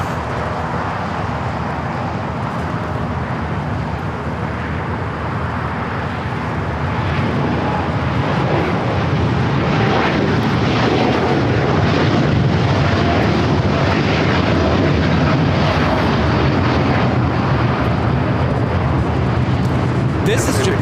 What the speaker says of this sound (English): Airlines Flight 69 taking off to Osaka on the 787-9 Dreamliner.